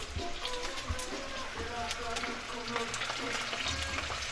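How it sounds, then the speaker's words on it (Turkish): Onions and meat sauté in a pan with a steady, dense sizzle and occasional stirring scrapes, while a voice talks over the frying. "Soğanları da pembeleşene kadar kavuracağım."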